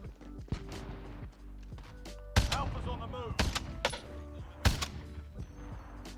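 Three heavy, sharp M82 sniper rifle shots ring out in the Warzone video game, spaced about a second apart, amid busy game noise and a talking voice.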